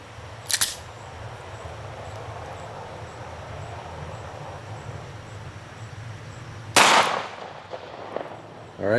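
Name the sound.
Kel-Tec pistol firing RIP ammo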